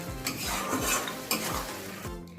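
Cornflour water goes into a pan of homemade chilli chicken gravy with capsicum, which hisses loudly while a utensil scrapes and stirs in quick strokes, close up and without speech.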